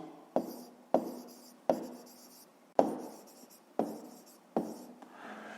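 Pen writing on paper while solving a fifth-grade maths exercise: six separate scratchy strokes, each starting with a sharp tap and fading, spaced about a second apart, close and quiet with no voices.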